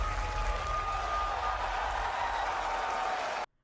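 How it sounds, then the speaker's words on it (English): Crowd applause carried in a live event broadcast, a dense, steady wash of clapping and cheering that stops abruptly near the end. "Oh, I love that they included the applause."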